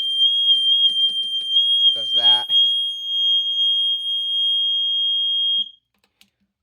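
A carbon dioxide themed fire alarm sounds during an alarm test: a steady, loud, high-pitched electronic tone holds for several seconds, broken by a brief rising chirp and a short spoken phrase, then cuts off abruptly.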